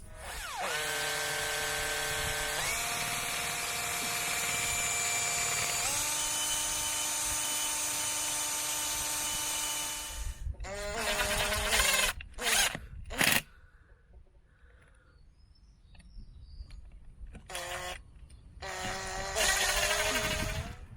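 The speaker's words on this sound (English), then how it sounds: "So I shall just make some pilot holes and then hopefully screw the post in place." A cordless screwdriver fitted with an M5 drill bit bores pilot holes into a post for a transplanted fruit tree, a steady high whine running for about ten seconds before short broken bursts of drilling and quiet gaps.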